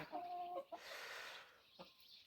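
A hen gives a short, clear cluck, followed by faint rustling and a quieter cluck, all soft and somewhat distant.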